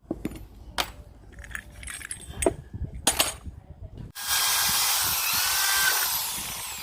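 A power drill bores into a hard metal lawn mower gear head part, starting as a loud continuous whine partway through, after scattered clinks and handling knocks of metal parts.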